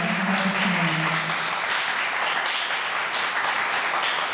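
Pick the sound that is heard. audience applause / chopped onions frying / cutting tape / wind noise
audience applause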